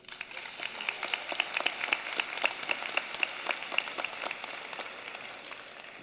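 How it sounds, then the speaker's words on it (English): Commencement audience at the Lafayette High School 2018 ceremony applauds to welcome a math teacher, steady crowd clapping at moderate distance with sharp individual claps and a few whistles throughout, no talking. "Please welcome her with a round of applause."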